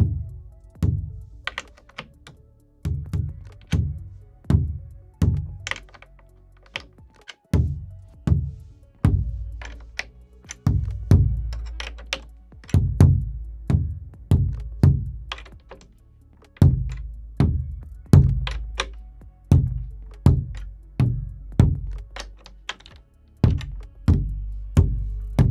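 Low-tuned kick drum struck in a steady series of deep, punchy thumps with short decays, close and loud, with no voices.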